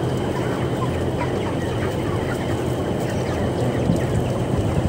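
Many broiler chickens in a housing shed with air blowers cluck softly in a crowded chorus over a steady background hum, no single bird standing out.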